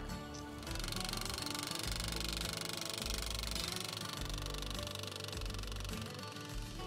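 A vertical T-post is driven for a fence brace, a loud continuous mechanical pounding that runs for about five seconds before easing off.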